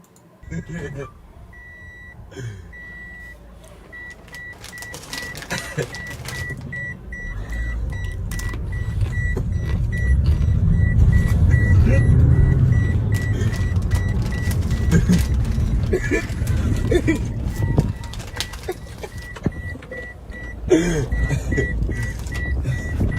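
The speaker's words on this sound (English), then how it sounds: "Shut your fucking car up" A car engine rumbles loudly and steadily through the middle of the stretch, with people talking over it and occasional high beeps.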